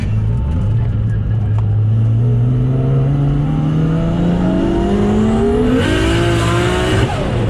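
A 900 HP Nissan R32 Skyline GT-R accelerates hard in second gear out of a final corner, the engine note climbing in one long loud rising pull heard from inside the car.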